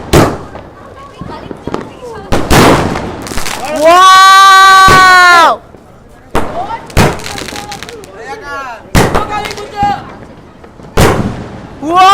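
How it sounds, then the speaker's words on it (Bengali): Firecrackers and fireworks burst during a Kali Puja and Diwali night celebration, sharp loud bangs scattered irregularly with a long rising whistling rocket in the middle, and voices heard between blasts. "অনেক বাজি ফাটালাম"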